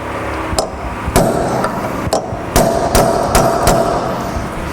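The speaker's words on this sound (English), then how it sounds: "we can use the edge of a cold chisel, carefully line it up with the slot and tap it on the top" A hammer taps a cold chisel to stake a hub nut on a Rover 75 1.8 Turbo rear brake assembly, about eight sharp metallic strikes at an uneven pace, close and clear.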